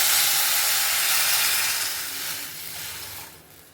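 Rasam poured into a pan of fried onions for Andhra-style ulavacharu, giving a loud, close, steam-laden hiss that slowly fades and softens toward the end.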